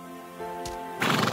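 A horse neighs loudly in an animated folk tale, a rising whinny that swells into a bright, harsh burst near the end, heard on its own.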